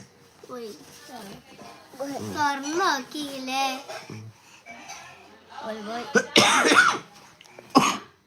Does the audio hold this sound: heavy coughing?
yes